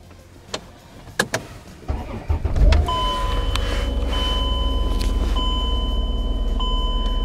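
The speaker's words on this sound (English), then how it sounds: "we're gonna turn on the car" A car is switched on with an FM Bluetooth transmitter plugged into the radio socket: a few clicks and knocks, then a rising whine as the system powers up, settling into a steady engine hum with electronic tones.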